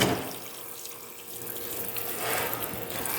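Tap water running steadily into a sink while a fish is washed, a continuous close splashing rush that swells slightly toward the end.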